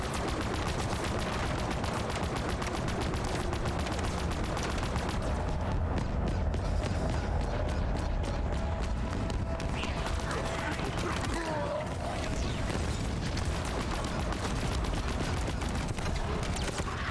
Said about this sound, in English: I'm literally in a firefight right now